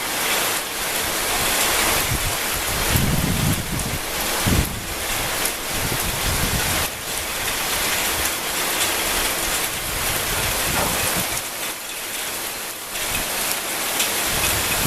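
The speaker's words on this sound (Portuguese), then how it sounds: "Que delícia de chuva, meu Deus, em Santa Catarina" Heavy rain pours down in Witmarsum, Santa Catarina, a loud, dense, continuous roar with gusty surges, close to the microphone and with no voices.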